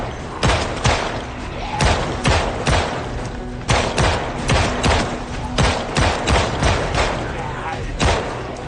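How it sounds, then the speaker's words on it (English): Rapid series of M9 pistol shots in the zombie survival game Project Zomboid, sharp loud cracks fired in quick irregular bursts across the whole stretch with thudding impacts. "switching to the M9 now"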